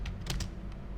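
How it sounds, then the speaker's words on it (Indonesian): Typing on a computer keyboard, a few quick clicky keystrokes close by in a one-second burst over a low background hum, with no talking. "Mari kita coba ketik Universitas"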